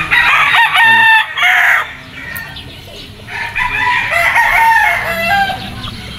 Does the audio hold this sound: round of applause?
no